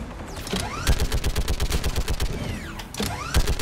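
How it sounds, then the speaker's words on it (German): A cannon turret in the video game Mass Effect 3 fires a rapid series of loud, punchy blasts with mechanical clanks and whirring sweeps between bursts, close and dominating. "Da ist die Kanone."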